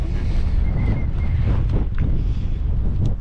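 Strong wind buffets outdoors in a mountain valley near a river, a loud, continuous roar with gusty swells throughout.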